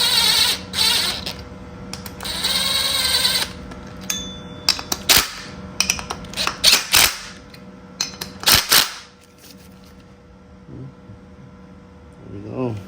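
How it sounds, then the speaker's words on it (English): An impact wrench tightens a bolt on a side-mount pulley kit for a K-swapped Honda EG/Si build: a couple of sustained rattling bursts followed by a series of short sharp hammering blips, up close in a quiet shop. "I'm just gonna hit it with the impact for now"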